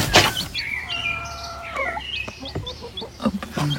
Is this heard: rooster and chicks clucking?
yes